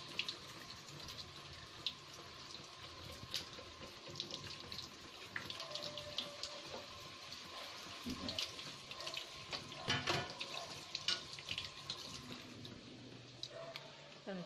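Fish washed under a running kitchen tap, a steady near stream of water splashing and trickling with handling noises, under occasional talk.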